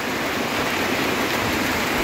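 Rain falling beside a parking area on Tayak Hill in Nagcarlan, Laguna, heard as a steady, dense hiss of close downpour with no breaks and no voices.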